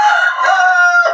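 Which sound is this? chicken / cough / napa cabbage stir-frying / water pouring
chicken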